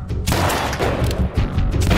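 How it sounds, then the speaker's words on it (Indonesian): Gunfire breaks out as workers open fire on a team and both sides shoot back, a dense, loud burst of overlapping shots and booms that fills the whole two seconds. "para pekerja itu menembakkan senjatanya pada tim. Dan terjadilah aksi saling menembak."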